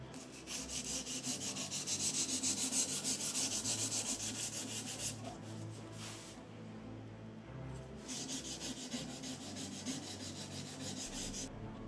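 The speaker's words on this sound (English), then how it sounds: "I am going to sand off this design and put Anthony's name on here." A carved design is sanded off a wooden Viking hammer with continuous close rubbing and scraping, in steady back-and-forth strokes with a brief pause in the middle, without talk.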